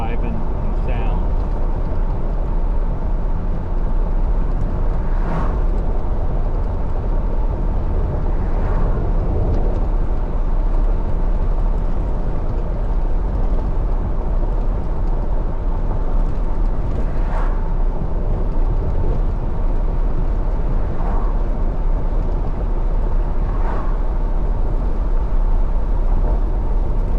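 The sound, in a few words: Toyota Tacoma driving on a rough potholed road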